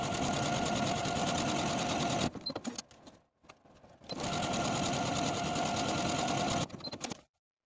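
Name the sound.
sewing machine sewing buttonholes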